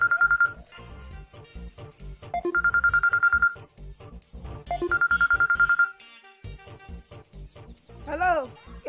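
A telephone rings in repeated bursts, each ring a steady electronic trill lasting about a second with short gaps, fairly loud and close, with a few brief noises between rings.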